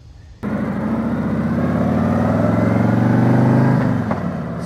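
Harley-Davidson motorcycle starting to ride, its engine kicking in abruptly and then holding a loud, close, rumbling drone with rising revs before easing off near the end.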